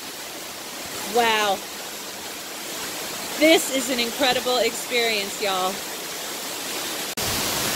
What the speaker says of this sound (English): I can really feel the mist coming off the waterfall.